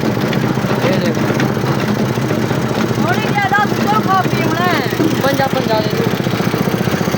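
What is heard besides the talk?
generator engine running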